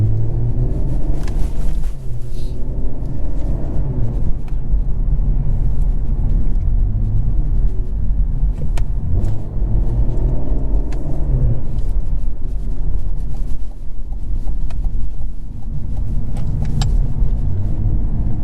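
A 2022 Cadillac CT4-V Blackwing's exhaust rumbles loudly and continuously while the car is driven with manual shifting, a deep steady drone swelling slightly through gear changes, heard from inside the cabin.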